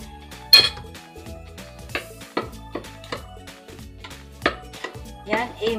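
Mixing mayonnaise into a sugar and vinegar coleslaw dressing, with a utensil knocking and clinking against a bowl in a steady series of sharp taps close by, no talking.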